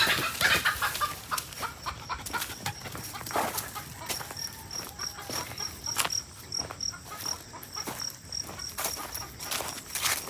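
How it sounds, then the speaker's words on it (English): Chickens kept up the hill cluck softly amid a steady chorus of crickets and insects in humid outdoor air, the fowl sounds intermittent and moderately near, no talking. "Randy's keeping some chickens up there"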